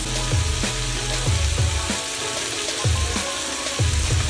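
Chicken gizzards, carrot and liver sauté in a hot pan for lomi, giving a steady loud sizzle broken by regular scraping stirs about every second, with no voices.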